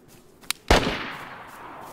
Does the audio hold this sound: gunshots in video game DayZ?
yes